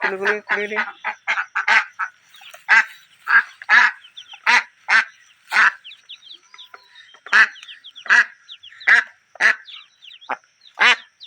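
Ducks quack loudly and close by in short, irregular bursts, with brief pauses between clusters of calls.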